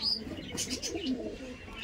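Andhra pigeons, large aggressive birds held for sale, coo in a short burst with a few bright chirps, close and fairly clear.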